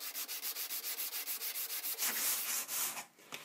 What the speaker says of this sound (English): I'm going to switch over to sandpaper.